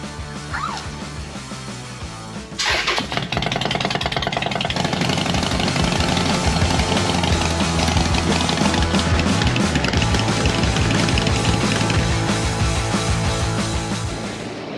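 A Harley-Davidson Forty Eight motorcycle engine cranks and catches, then settles into a loud, steady idle that runs on alone close by.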